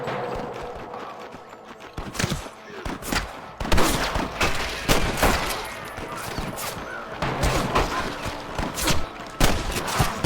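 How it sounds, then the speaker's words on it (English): Gunfire in the Western video game Red Dead Redemption: a rapid fusillade of loud shots with horse hooves clopping and voices mixed in. "I can hear more gunshots."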